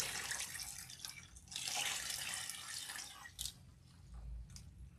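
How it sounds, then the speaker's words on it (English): Water being emptied out in a hair salon: a gushing, splashing pour that swells and fades in waves, fairly quiet, with a few drips and no talking. "these gentlemen are emptying the water"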